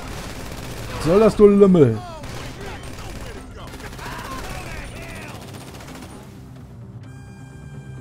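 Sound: gunshots in video game GTA Online

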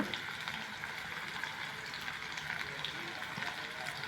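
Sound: curry leaves sautéing in a pan

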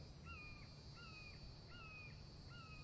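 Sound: crow cawing in the video game The Infected

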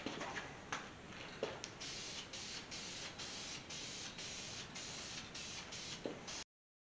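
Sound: spray painting truck parts with blue paint

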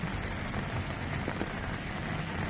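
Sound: continuous rain falling during flooding

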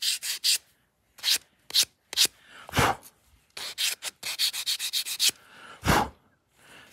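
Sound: sanding wood edges with 220 grit sandpaper

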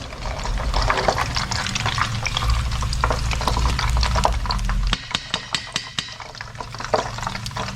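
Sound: scooping fried spring rolls out of hot oil

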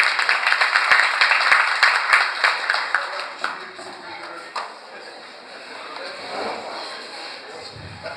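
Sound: audience applause welcoming a speaker

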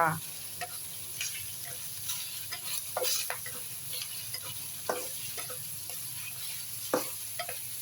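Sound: beef stir-frying in a pan before adding tomatoes

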